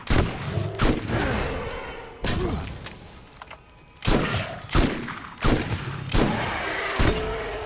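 Gunfire in the video game Borderlands while fighting a skag: heavy repeated shots and booming thumps in uneven bursts, loud and close, with no talking.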